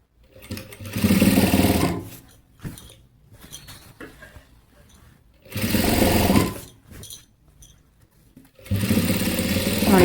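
A sewing machine stitches a work blouse lining in three loud bursts of rapid whirring, separated by quieter pauses with faint handling of fabric, close by and with no talking.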